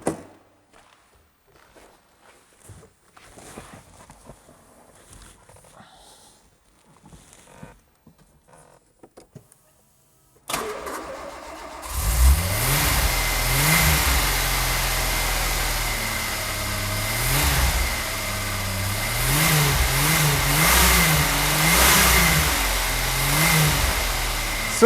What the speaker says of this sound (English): Let us start this French V6 turbo engine and listen to its acoustic performance.